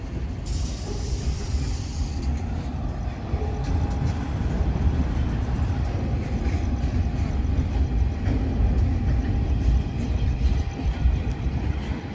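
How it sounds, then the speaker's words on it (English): A freight train rolls past platform 3 at Broadmeadows station in Newcastle, a steady loud rumble of wagons lasting throughout, with a brief high whine near the start and no talk over it. "And we have a freight train passing platform 3 at Broadmeadows train station."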